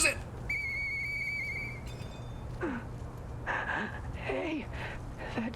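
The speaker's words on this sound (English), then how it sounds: "What about this police whistle?" A police whistle in the game Lies of P blows one clear, steady tone lasting about a second and a half, followed by a brief second blast, then softer voice sounds and gasps over a low hum.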